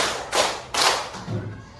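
Fourth-grade pupils in an Indonesian-language classroom clap together in a patterned routine: two crisp, loud unison claps roughly half a second apart, followed by a softer, duller third beat.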